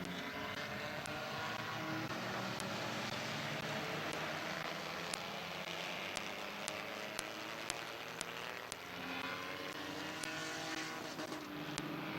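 Race cars roar continuously around the Midvale Speedway oval during a fall classic race, a loud, dense engine drone with shifting pitch as cars pass, mixed with distant crowd and track noise.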